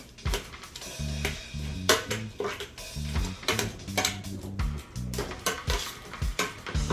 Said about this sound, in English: Now we're going to mash our potato.